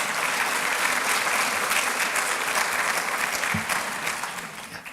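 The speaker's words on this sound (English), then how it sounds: "Applaud yourself for being here." Sustained applause from an audience at a diaspora gathering in New York hosted by the Prime Minister of Barbados, a dense steady clatter of many hands that thins slightly toward the end.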